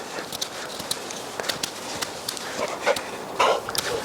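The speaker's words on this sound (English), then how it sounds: "Hi dog, what you doing?" A dog moves around nearby at a hot-tent camp during a turkey hunt, with soft irregular footsteps, light rustling and a few small clicks and taps, all fairly faint against quiet background noise.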